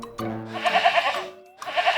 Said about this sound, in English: Ma, said a goat.